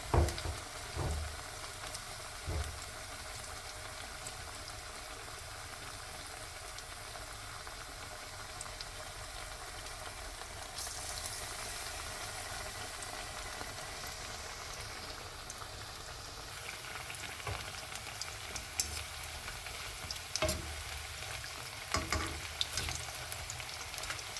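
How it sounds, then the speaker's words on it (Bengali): Steady, crackling sizzle of prawn pakoras frying in hot oil, continuous and close, with a few brief clinks and no voices. "চিংড়ি মাছের পাকোড়াটা ভাজতে দিয়ে দিলাম"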